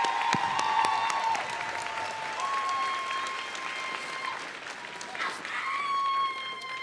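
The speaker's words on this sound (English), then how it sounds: "let's give our MS students a big hand of applause" A commencement audience applauds graduating master's students, a sustained wash of clapping from a large crowd with scattered louder claps, while a voice speaks over it.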